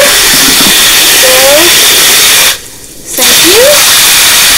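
Water from a garden hose rushes steadily into a pool vacuum hose, a loud broadband hiss that drops out briefly for about half a second, then resumes, with faint squeaky tones over it.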